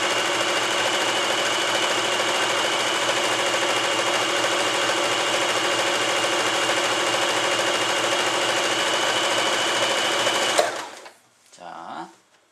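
An Elna EL2000 sewing machine stitching fabric runs at a steady, fast mechanical hum with a rapid needle rhythm for about ten seconds, then stops abruptly, leaving faint handling noises.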